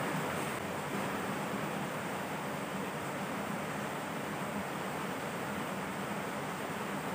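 Rain falls steadily as an even, dense hiss with no breaks, moderately quiet and alone with no voices or other sounds.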